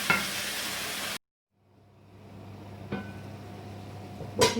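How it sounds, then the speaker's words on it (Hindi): White chicken karahi frying with yogurt over medium heat gives a loud sizzle that cuts off abruptly into brief silence, then slowly returns with stirring clatters and a sharp scrape near the end, close up, with no talking. "मीडियम हीट पे अब इसकी भुनाई होगी 5 मिनट्स के लिए।"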